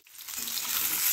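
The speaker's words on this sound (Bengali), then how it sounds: "হাফ আলু ভাজছি" Half-cooked potato pieces, salted and coated with turmeric, sizzle in hot oil in a pan, a short soft hiss rising to a steady crackle.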